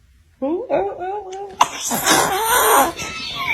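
A baby sneezes once, a sudden sharp burst after some fussy vocalizing, followed by an adult's close, lively voice.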